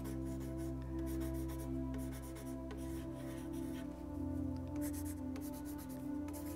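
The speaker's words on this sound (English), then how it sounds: "So I'm just gonna draw it out and you can use a 2B pencil." Soft 2B pencil drawing on paper for a printmaking design, a steady continuous scratchy rubbing of graphite close to the microphone, running without pause under a low steady hum.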